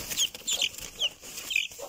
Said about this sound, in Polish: Tutaj są te dwa koguty